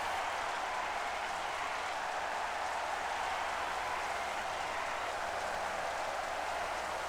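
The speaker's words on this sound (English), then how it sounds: "I guess it's just going to rain for the rest of the race." Steady rain hisses evenly throughout a race in the 1997 Formula 1 Championship Edition video game at Imola, Italy, a soft constant wash with no other distinct sounds.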